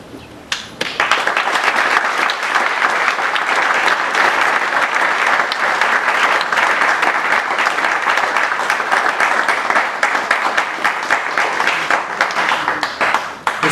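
Large crowd at a political rally in Bacongo welcoming a politician with loud, sustained applause, dense clapping rising at the start and continuing without a break.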